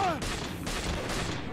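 A rapid series of three gunshots fired at an enemy in Dementium II HD, close and sharp, each burst decaying briefly before the next.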